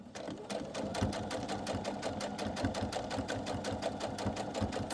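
A sewing machine stitches batik fabric shreds into new fabric, its needle chattering in a fast, even rhythm at moderate volume throughout.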